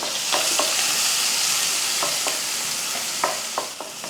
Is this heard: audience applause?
no